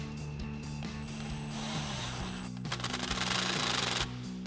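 Impact wrench with an 8mm socket and extension tightening a clamp on a cold air intake tube of a 2021-2024 Ford F-150 EcoBoost, with steady whirring and a rapid hammering burst near the end, close up.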